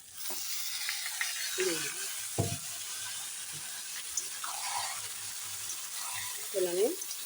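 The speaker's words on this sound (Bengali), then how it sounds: "ভালো করে তেলের মধ্যে ভেজে নিই ডালিয়া" Washed broken wheat (dalia) frying in oil with ginger, a soft steady sizzle with intermittent scraping and clinking stirring strokes, close and fairly quiet.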